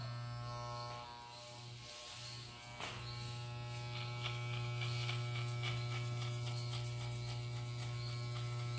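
Electric hair clippers buzz steadily through a fade haircut in a barbershop, a close, continuous hum with a brief dip in the motor tone, and no one speaking.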